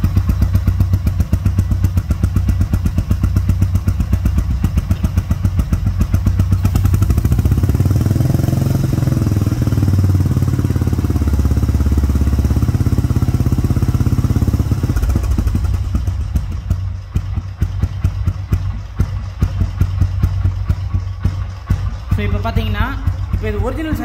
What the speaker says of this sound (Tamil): இப்போ இது ஒரிஜினல் சைலன்சர் போட்ட உடனே அதோட பீட்டை பாருங்கள்.